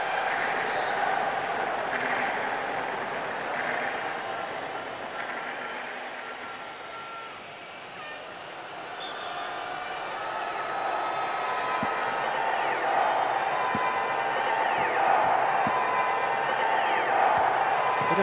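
A stadium crowd in the PES 2009 football video game, Iran versus Nigeria, roars and cheers continuously, swelling and dipping in a dense wash of noise with faint whistles and shouts over the top.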